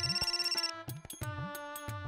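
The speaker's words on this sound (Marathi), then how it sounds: "मोहन, एक मिनिट, फोन आला." A mobile phone rings for an incoming call with a bright electronic melody of quick repeating notes, fairly close and unaccompanied by talk.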